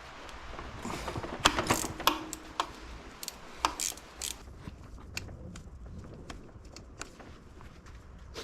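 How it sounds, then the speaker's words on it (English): A wrench works loose the oil drain on a leaking Cub Cadet engine, giving a run of sharp metallic clicks and ticks at uneven intervals, close by and fairly loud, over low background hum, with no talk. "I think I can just use my wrench."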